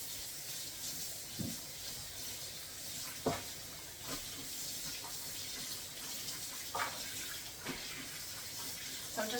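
A garment is swished and rubbed in a sink of hot soapy water with Woolite, giving soft, quiet watery sloshes and occasional splashy bursts over a faint hiss.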